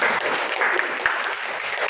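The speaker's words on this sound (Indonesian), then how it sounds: "Berikan dulu tepuk tangan." A classroom of students in a micro-teaching economics lesson breaks into steady applause, dense and continuous at close range throughout.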